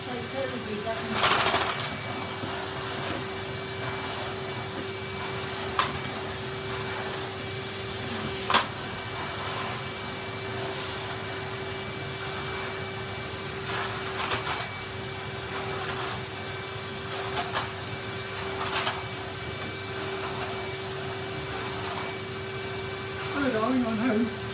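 Vacuum cleaner hoovering a Persian silk carpet indoors, a steady droning whine running throughout with a few brief knocks and bumps, with talk in the background.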